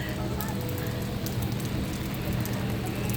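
Rain falls steadily at a resort on a cool day, a dense continuous hiss of drops on surfaces heard up close throughout.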